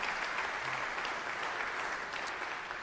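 A church congregation at a traditional worship service breaks into applause, a fairly faint, even wash of many hands clapping at a distance with no clear voices.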